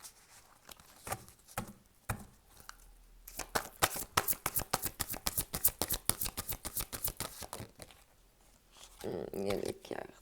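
A deck of playing cards is shuffled repeatedly, producing dense, rapid riffling bursts up close that come in several waves, with softer handling and rustling between them.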